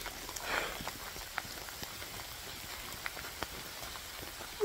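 Rain falls steadily outdoors on the grounds of Althorp Estate, a soft continuous patter scattered with small distinct drops, heard with no voices.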